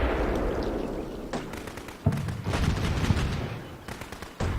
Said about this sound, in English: The UAV spotted an enemy mortar down here, a 120mm mortar, which would explain the large bangs that have generally been going off in the background